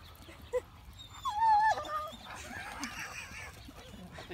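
A Dobermann whimpering and whining in a few high, wavering cries with a brief yip, moderately close, against outdoor background noise.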